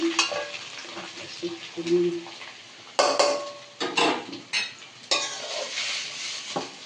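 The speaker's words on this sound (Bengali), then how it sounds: "পনিরগুলোকে নামিয়ে নিচ্ছি আস্তে আস্তে" Fried paneer lifted out of a pan in a home kitchen, with scraping utensil clatters and metallic knocks over a faint sizzle of hot oil, in short irregular bursts.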